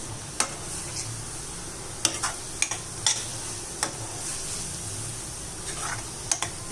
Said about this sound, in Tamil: இப்போ இந்த காரத்தோடு சேர்த்து நல்லா வதக்கினீங்கன்னா அதில் உள்ள பச்சை வாசனையெல்லாம் போயிட்டு நல்லா சூப்பர் டேஸ்ட்டாக இருக்கும்